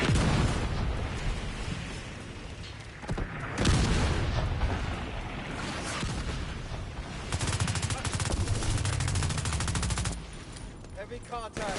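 Mortar and gunfire battle in The Division 2, with loud booms, bursts of automatic fire and explosions filling the scene up close, while a voice talks over the combat.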